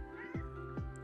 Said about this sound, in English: Hey, you jumped up here, Cat.